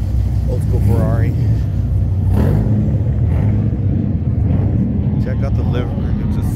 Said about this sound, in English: Old school Ferrari.